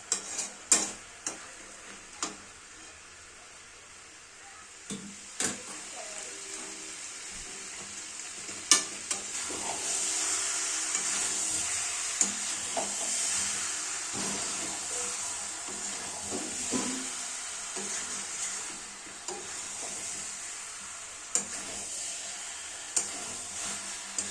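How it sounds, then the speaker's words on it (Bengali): Chicken slow-frying with chui jhal in a pan on a lowered gas flame, a steady close sizzle with occasional scraping stirs and sharp ticks from the pan throughout. "ধৈর্য ধরে মাংসটা খুব সুন্দরভাবে দীর্ঘক্ষণ ধরে কষবেন"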